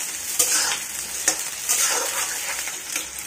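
Mixed vegetables sizzling and being stirred in a hot pan, a close, steady frying hiss punctuated by a few scraping stir strokes.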